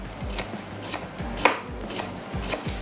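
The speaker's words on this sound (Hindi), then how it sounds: "मैं यहाँ से ले लेती हूँ नाइफ़ और प्याज के कर लेते हैं स्लाइस" A knife slices onions on a board in quick, steady strokes, each cut a close, crisp tap in an even rhythm, with no talk.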